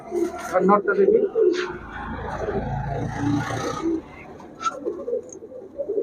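Pigeons of a fancy racing line, kept by a seller, coo in repeated throaty bursts close by, while people talk over and between the calls.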